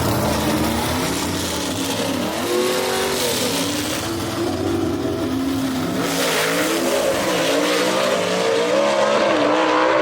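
A slingshot gasser drag race car with a Par race engine accelerates hard down the strip at Brainerd Motorsports Park during a Southeast Gassers Association race, its loud, continuous engine roar climbing steadily in pitch for the whole stretch.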